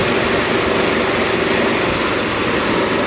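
A 1995 Mitsubishi 3000 GT with a V6 24-valve engine runs steadily, a loud, close, even drone with a dense, constant hum and no change in pace and no voices.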